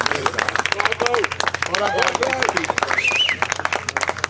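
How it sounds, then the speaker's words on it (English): Crowd applause at a World's Strongest Man final, loud continuous clapping with sharp individual claps on top, cheering and shouting voices rising through the crowd noise. "Let's just have a round of applause for everybody."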